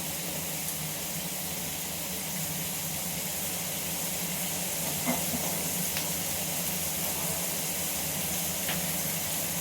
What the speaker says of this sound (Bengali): সবজিটা এবার ভালো করে ভাজা হোক